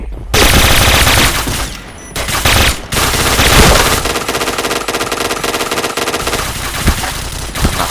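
Sustained bursts of automatic gunfire from a bomb-defusal shooter video game, loud and nearly continuous, with brief gaps between volleys.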